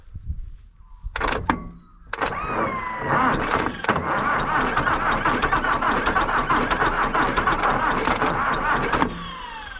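A diesel engine with its glow plugs removed cranks and catches after a couple of thuds, then settles into a steady, loud idle that runs close by for most of the clip.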